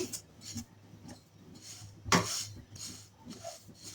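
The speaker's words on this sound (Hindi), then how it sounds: "खूब अच्छी तरह से हमें भूनना है यहाँ तक कि ये तिल फूल जाएं।" White sesame seeds dry-roast in a pan, heard as intermittent close scraping and stirring strokes against the pan with soft rustling between them and one sharper clank midway. No one speaks.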